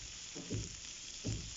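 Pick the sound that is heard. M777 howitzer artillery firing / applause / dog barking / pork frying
pork frying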